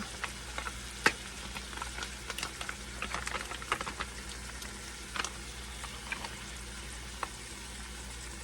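Black beans, undrained and with a little can liquid, scraped from the can into a hot pan sizzle steadily, with a sharp metallic clink and a few scraping knocks over the constant frying hiss.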